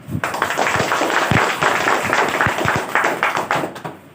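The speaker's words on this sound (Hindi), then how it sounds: "एक बार जोरदार तालियां।" Audience clapping fills a hall at a business presentation, a loud, uneven burst of many hands with sharp individual claps standing out near the front.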